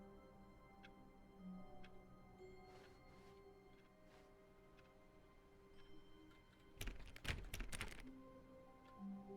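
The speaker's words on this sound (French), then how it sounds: "On entend vraiment les touches de clavier." Computer keyboard keys being typed on, a soft scatter of faint clicks behind a steady background hum, with a brief denser burst of louder taps near the end.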